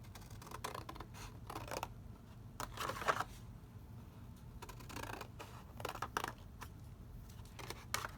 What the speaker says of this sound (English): I'm just going to take my regular scissors